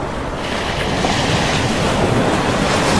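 Floodwater surges and roars in a continuous loud wash as Cyclone Ditwah hits Sri Lanka, with broadband rushing noise and wind buffeting the microphone, and no voices.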